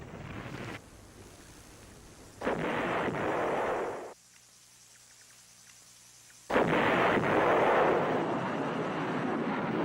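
Artillery fire and bombing in a Vietnam War battle, heard as heavy roaring, rumbling blasts in long washes that drop away to a low quiet hum before surging back loud.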